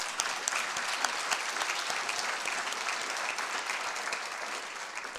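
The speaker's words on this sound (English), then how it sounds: "A big hand of applause to them." Audience applause at a speech event at BYU in Provo, a dense, steady wash of many hands clapping, fairly distant and sustained throughout with no talk over it.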